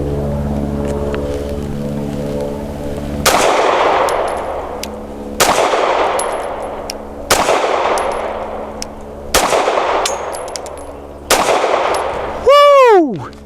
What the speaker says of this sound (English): We'll shoot 5 rounds of the Nosler ASP 115 grain.